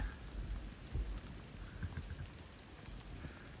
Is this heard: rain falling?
yes